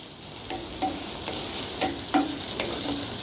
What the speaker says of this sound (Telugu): ఇప్పుడు రెండు నిమిషాల పాటు వీటన్నిటిని ఫ్రై చేసుకుందాం